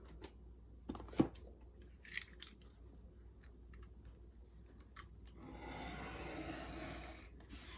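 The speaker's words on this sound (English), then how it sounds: "And I'm going to trim the excess off." Scissors snip excess paper from a piece of Stamperia wall art in a few quiet, separate cuts close to the microphone, followed by soft rustling and scraping.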